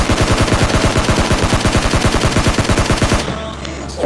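Rapid automatic gunfire in a first-person shooter video game, a steady fast rattle of loud shots lasting about three seconds before cutting off into quieter game sound.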